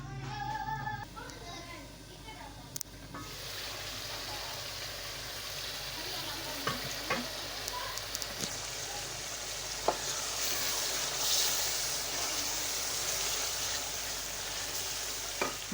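Mixed vegetable sabzi cooking in a pan, a soft continuous sizzle with occasional spoon clinks and stirring scrapes, close but fairly quiet, faint voices briefly at the start.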